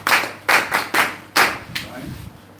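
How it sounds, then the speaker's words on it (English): A few distinct hand claps ring out in a short, uneven burst of about six sharp strikes, moderately close, after a call to applaud guests at an evening gathering, with a faint low murmur underneath. "give them a round of applause."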